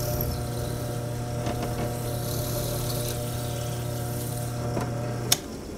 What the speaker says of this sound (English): I used a drill press to drill the holes.